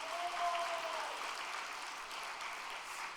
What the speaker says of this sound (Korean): 축복의 박수를 보내주시면 좋겠습니다